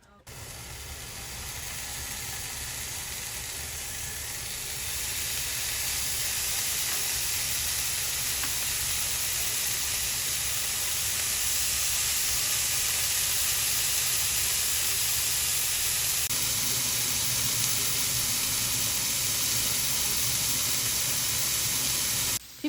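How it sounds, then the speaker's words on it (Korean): Beef searing in a new 28 cm frying pan, a steady broadband sizzle that swells after a few seconds and holds loud and continuous to the end, with a faint low rumble beneath. "새로 산 프라이팬에 저번에 산 소고기를 구웠다."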